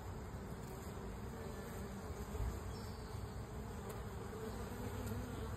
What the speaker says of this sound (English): I've seen yellow jackets and other things, ants and stuff, enter a honeybee hive, but never a bumblebee